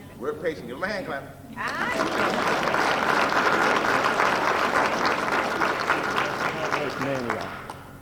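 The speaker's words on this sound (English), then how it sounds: "Give him a hand clap." Audience applause for a sound engineer at a gospel music event with a college choir, swelling from a few early claps into sustained, dense clapping that fills the room, with a voice talking briefly at the start.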